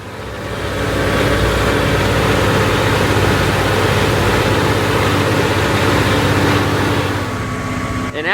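A Deutz-Fahr 9340 TTV tractor engine runs at full load on a dyno, a loud, steady, heavy low drone with broadband roar that holds constant for about eight seconds before cutting off abruptly at the end.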